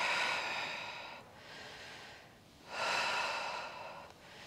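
Audible breaths during an intermediate Pilates reformer lower-body and core exercise, with two long airy exhalations separated by a quieter inhale, close and steady with no talking.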